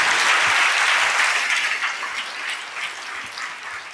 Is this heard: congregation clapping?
yes